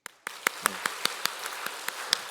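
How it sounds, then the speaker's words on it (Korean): A church congregation gives a short burst of sparse, individual claps at a Sunday afternoon teachers' dedication service, each sharp slap distinct and spaced apart in a quiet room. "박수 한번 힘차게 한번 하겠습니다"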